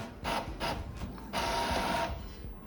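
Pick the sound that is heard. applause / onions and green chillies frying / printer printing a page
printer printing a page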